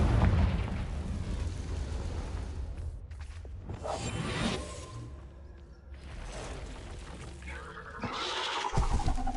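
A Confringo blasting spell in Hogwarts Legacy, with a booming explosion, rushing whooshes and rumbling blasts in a noisy magical duel, loud and dense with several surges and bursts.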